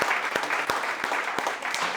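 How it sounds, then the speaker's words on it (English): An event audience gives a round of applause, steady close clapping with a few sharper claps standing out, lasting a couple of seconds without talk. "let's give Deborah Davis Ford another round of applause for this event"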